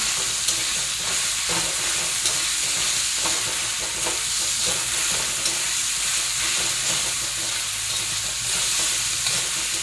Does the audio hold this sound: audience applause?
no